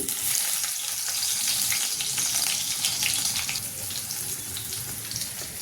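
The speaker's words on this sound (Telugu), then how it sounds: "ముందుగా వెల్లుల్లిపాయలు వేసుకుందాం. ఆయిల్ కాగింది." Garlic dropped into heated oil for a spinach dal tempering sizzles in a steady, broadband hiss that holds close and fairly constant, with no talking over it.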